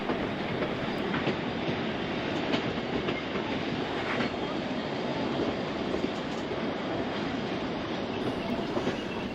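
Pichi Richi heritage passenger train running from Port Augusta toward the Flinders Ranges foothills, a steady close rumble of rolling cars with continuous clickety-clack and rail noise throughout, no voices.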